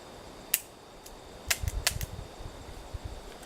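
Shots from a .44 Magnum handgun with a red dot sight ring out as a few sharp, fairly distant cracks, one isolated and then a tighter cluster, with ringing echoes trailing after.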